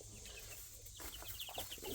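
A small group of chickens gives short, soft clucks and chirps, faint against a low background hum, with several calls clustered near the end.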